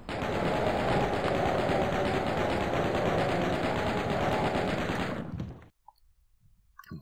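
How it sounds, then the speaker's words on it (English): A chaingun in Doom II firing a steady, rapid stream of shots for about five seconds, loud and continuous, then cutting off abruptly into near silence with a faint blip afterward. "Let's get the chain gun ready."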